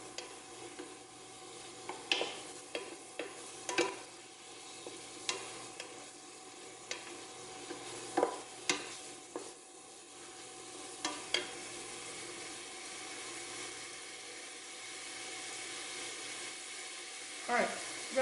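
Food sizzling and frying in a pot while being stirred, a steady hiss with frequent sharp clicks and scrapes of the utensil against the pot, close and moderately loud.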